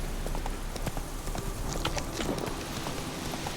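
Roach, the horse in The Witcher 3, runs with a steady rapid clip-clop of hooves against a busy background of game ambience, close and fairly loud throughout.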